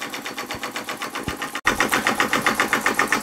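An Empire B-43 model steam engine with hand pump runs steadily, chuffing in a quick, regular rhythm of close, loud exhaust beats, with a brief break near the middle before resuming.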